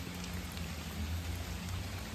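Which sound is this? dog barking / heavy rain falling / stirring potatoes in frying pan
heavy rain falling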